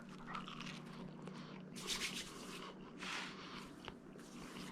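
A bite into a crusty cacio e pepe pizza baked in an Ooni Koda 16 oven, a few faint close crunchy bursts and chewing sounds spaced over several seconds, very quiet overall.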